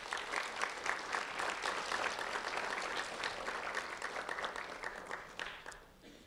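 A room full of people applauds at a Lee County Sheriff's Office recognition event, quick overlapping claps forming a steady wash that thins slightly toward the end.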